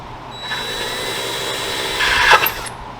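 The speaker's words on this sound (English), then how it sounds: "Low speed drilling." A power drill whirs steadily at low speed during a turbo kit install on an Acura RSX, rising to a louder grinding burst near the end before easing off.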